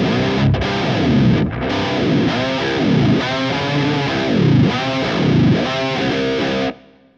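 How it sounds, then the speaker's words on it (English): An electric guitar through a Fractal processor plays distorted notes with a dive bomb effect, several repeated swoops of pitch plunging down then rising back, loud and continuous before cutting off at the end. "we're kind of dialing in that sort of sound where you just kind of very quickly dump the trim arm down"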